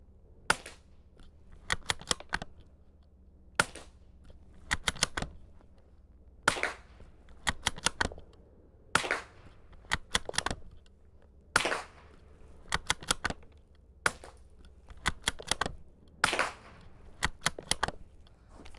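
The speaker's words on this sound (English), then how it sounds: "I had a mix of standard velocity and some other high velocity rounds in there" A Savage Mark II bolt-action .22LR rifle fires a mix of standard and high velocity rounds: sharp, close cracks at irregular intervals, with quieter clicks and handling noise from the bolt between shots.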